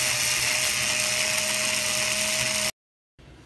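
A cordless screwdriver fitted with a drill bit bores steadily through a hole, a close, loud, continuous motor whine that cuts off abruptly, followed by quiet room noise.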